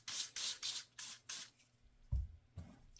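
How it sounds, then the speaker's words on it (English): Five quick bursts of Hoppe's No. 9 gun cleaning solvent spray hiss in a row onto a Smith & Wesson Equalizer pistol, followed by a couple of soft low knocks as something is set down. "go with Hops 9, spray her down"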